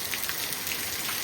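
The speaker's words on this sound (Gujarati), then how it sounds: "હવે પહેલાં હતો એનાથી પણ વરસાદનો દોર હાલ તો હવે વધી ગયો છે" Heavy monsoon rain pours down in a steady, dense hiss of drops, loud and continuous with no other sound.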